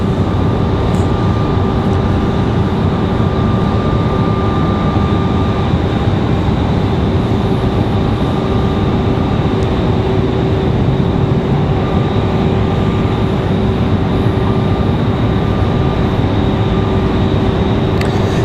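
An MD-11 airliner taxis at Raleigh-Durham airport, its jet engines making a loud, steady roar with a constant whine that holds throughout.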